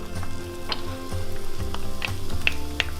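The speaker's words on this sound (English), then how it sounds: "I'm gonna go ahead and saute our onions." Chopped onions sautéing in melted unsalted butter in a pan, a steady soft sizzle with small crackles and pops throughout, close and with no talk over it.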